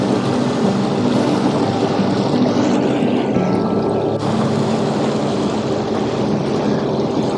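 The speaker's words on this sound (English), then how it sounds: "It's the neat thing about a Sea-Doo" A Sea-Doo personal watercraft cruises across the water, its engine roar and rushing spray forming a loud, steady wash of noise throughout with no talking.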